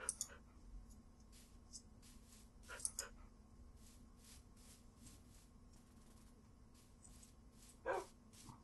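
Tame dogs in a Minecraft-style video game give faint, scattered barks and yips against a low steady hum, with a slightly louder bark near the end.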